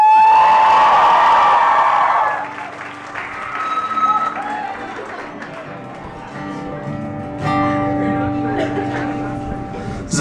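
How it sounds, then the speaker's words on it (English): A concert crowd applauds and cheers for a local band, a loud dense wash of clapping with whoops that fades after a couple of seconds into lighter scattered claps and murmur. "Give them a round of applause."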